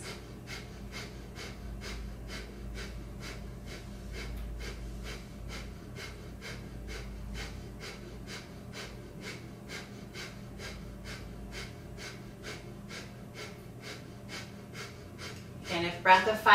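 Breath of fire breathing during a wake-up kriya yoga practice, with rapid, evenly spaced sharp nasal exhalations pulsing steadily for about sixteen seconds, close and clear, ending in a louder burst of breath.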